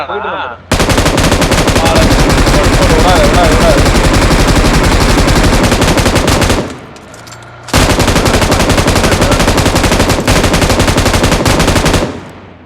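Gunfire in a shooting video game, long loud bursts of rapid automatic fire close up, broken by a short pause before a second extended volley, with players talking faintly underneath.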